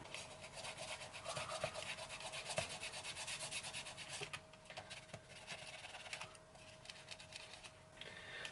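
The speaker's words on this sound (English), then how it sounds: "I'm going to use the provided alcohol wipe just to rub down the old bits of glue" An alcohol wipe is rubbed steadily over the base of a Razer DeathAdder 2013 computer mouse to remove old glue residue, giving a faint, continuous close-up scrubbing with no speech.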